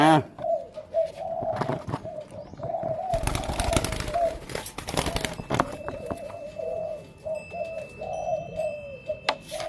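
A two-month-old young pigeon gives repeated soft coos while being handled, close and clear, with a burst of rustling and flapping wings in the middle and faint chirps later.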